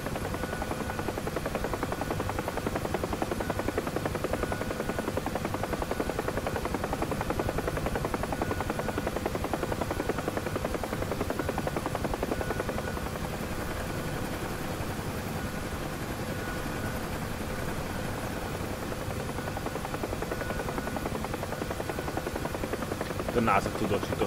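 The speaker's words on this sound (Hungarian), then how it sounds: "A NASA tudósító helikopterem" Steady, continuous helicopter rotor and engine drone from a simulated aircraft in DCS World, loud and unbroken throughout, with a voice talking faintly underneath at times.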